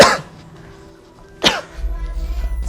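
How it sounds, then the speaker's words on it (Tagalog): Two sharp, close coughs about a second and a half apart, followed by a low humming murmur. "Simpleng ubo lang yan"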